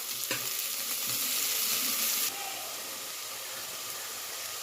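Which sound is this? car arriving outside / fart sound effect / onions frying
onions frying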